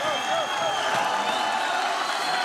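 Hockey arena crowd roaring and cheering during a fight on the ice, a dense sustained wash of noise with some whoops, loud throughout, with an announcer's voice blended in.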